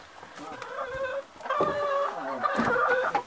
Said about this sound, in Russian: сейчас пойдем в стайку посмотрим курочек.